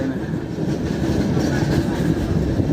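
Heard from on board, a train on the Visakhapatnam to Araku Valley route rolls along with a dense, continuous rumble and faint clacking of wheels on the track.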